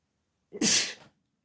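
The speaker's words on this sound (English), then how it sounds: "sneeze on a Thursday." A single sudden sneeze, a quick inhale followed by a sharp, hissing burst, close and alone against silence.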